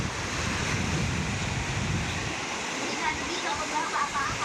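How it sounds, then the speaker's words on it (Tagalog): Waves crash on the rocky shore at Agno beach in Pangasinan, a continuous roaring surge of surf with wind buffeting the microphone and faint voices in the background. "Hampas pala ng alon"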